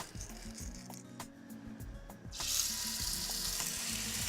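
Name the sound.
meat searing in a very hot pan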